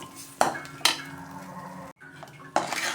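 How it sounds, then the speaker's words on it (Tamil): A ladle knocks and scrapes inside a pot of white pumpkin sambar as it is stirred, a few sharp metallic clinks over a low background hum, close and moderately loud. "கரண்டி வச்சு நல்லா கலக்கி விட்டுக்கலாம்."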